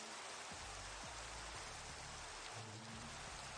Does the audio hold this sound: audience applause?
no